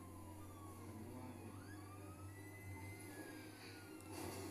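A fire-engine or police-type siren from the video game GTA 5 wails faintly in the distance, its sweeping tones rising and falling over a low steady hum and background noise.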